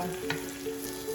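Yellow lentils dry-roasting in a pan for dhal, a steady close sizzle and crackle with a brief scraping stir partway through, no voices.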